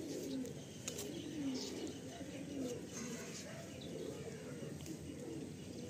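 Pigeons coo softly in a loft, low rounded calls repeating at intervals over a faint steady background, with occasional chirps and a murmur of distant voices.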